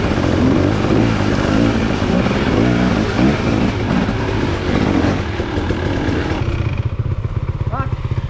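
A big group of about 18 dirt bikes rides a sloppy, muddy trail. A steady, loud engine drone rises and falls close by, with voices talking over it.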